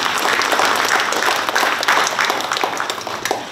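Audience applause rising for a special address at an official event in Pohnpei, Federated States of Micronesia: dense, sustained clapping from a large crowd, loud and steady throughout with no voices on top.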